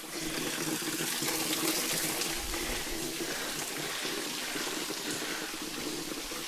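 A waterfall pours in a steady, dense rush of falling water, continuous and fairly close, with no voices over it.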